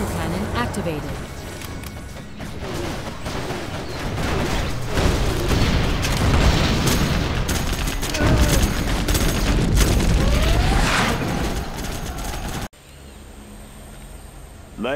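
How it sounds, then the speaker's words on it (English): Dense barrage of booms and rapid gunfire from a particle cannon strike in the real-time strategy game C&C Generals Zero Hour, loud and continuous for about twelve seconds before cutting to a quieter game scene, with unit voice lines mixed in. "Allied particle cannon activated."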